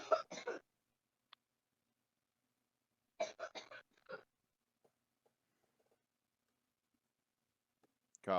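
A young girl coughs in short, sharp bursts, a quick cluster at the start and another longer run a few seconds later, separated by near silence, with a voice coming in at the very end.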